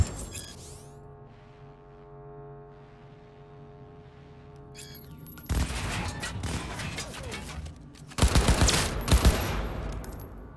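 Bursts of rapid gunfire from the video game Cyberpunk 2077 erupt amid quiet electronic tones and background hum, with two loud volleys separated by a short pause.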